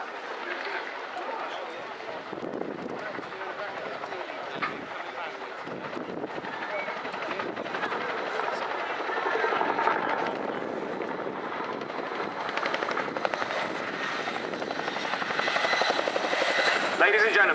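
Twin-rotor Chinook helicopter flying backwards during an air display at Dunsfold, a steady loud rotor and engine roar swelling slightly, heard over wind buffeting on the microphone.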